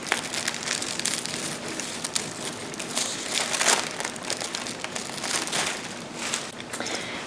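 Scissors cutting fabric along pattern lines for pajama pants, a close, continuous crinkly rustle with repeated snips and shuffling of cloth, fairly soft and without talk.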